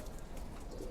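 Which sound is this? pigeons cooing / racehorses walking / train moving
pigeons cooing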